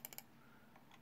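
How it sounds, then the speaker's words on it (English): Altos G Lite AL-GMO016 computer mouse button pressed three times in quick succession, crisp small clicks close up, followed by a couple of fainter clicks in a quiet room. "You can hear the click sound."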